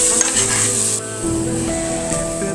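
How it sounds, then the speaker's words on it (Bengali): Mashed banana fried with garlic and onion in a pan, giving a loud continuous sizzle with a steady hiss and stirring scrapes close by, alone without any voices. "কলা ভর্তাটা রসুন পেঁয়াজের সাথে ভালো করে ভেজে নিলে অনেকটাই টেস্ট হয়।"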